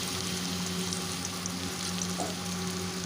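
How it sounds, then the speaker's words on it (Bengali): Sesame fritters fry in hot oil in a wok over a high flame, with a steady, dense sizzle that stays loud and even throughout, with no voices. "গ্যাসের ফ্লেমটা হাই রেখেই আমি এটা বড়াগুলো কড়াই ছেড়ে দিচ্ছি"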